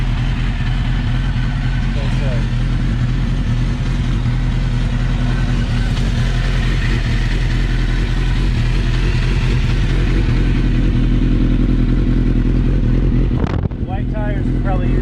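Close and loud, a Suzuki GSX-R motorcycle with 37,000 miles sits at a steady, throbbing idle, its low rumble unbroken throughout, with a voice briefly heard over it near the end.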